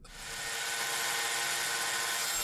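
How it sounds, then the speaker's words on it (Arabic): An angle grinder fitted with a wood-cutting disc spins up into a steady, high-pitched whine as it makes a first cut, a continuous bright drone held throughout and heard alone. "ركبت بقى قرص قص الأخشاب عشان هعمل أول قطعية أو علام قص"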